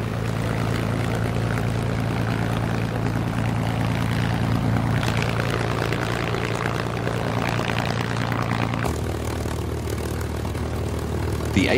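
A P-51 Mustang's propeller engine drones loudly and steadily as the fighter flies, with a thick low hum under a broad rush of air and a slight shift in tone near the end.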